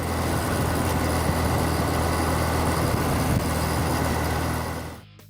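A 1980 Suzuki GSX1100 Katana motorcycle engine idles with a low, steady hum that stays even throughout, then drops away quickly at the end.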